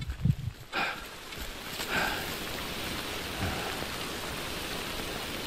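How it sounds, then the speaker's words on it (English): Steady rain in the video game Death Stranding, a soft even hiss of falling drops throughout, with a few brief knocks and rustles early on, fairly faint and without speech. "Please stop raining."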